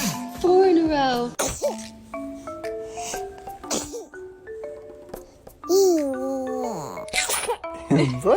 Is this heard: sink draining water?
no